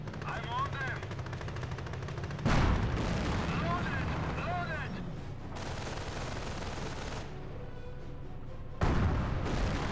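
Machine-gun bursts and heavy artillery blasts fill a Company of Heroes battle, a steady rattle of gunfire with two loud explosive impacts punching through, one early and one near the end.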